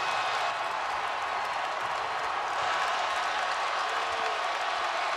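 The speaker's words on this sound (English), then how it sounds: "Berry trying to quiet the crowd." A basketball arena crowd roars and cheers in a dense, sustained wash of noise with scattered applause, loud and constant throughout the stretch.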